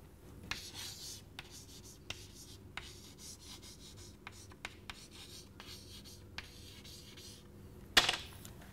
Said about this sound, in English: I will have to write it for you.